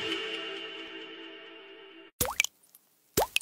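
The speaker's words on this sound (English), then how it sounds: "That's the sound of unaged whiskey transforming into Jack Daniel's Tennessee Whiskey in Lynchburg, Tennessee." Unaged whiskey dripping through a charcoal filter at the Jack Daniel's distillery in Lynchburg, Tennessee: a steady trickling hiss that stops, then a few sharp, close liquid plops and drips in the quiet.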